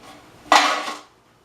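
Metal bread loaf pans clatter together in one sharp burst of handling, a bright clanking that rings briefly and fades within about half a second, close by and with no talk.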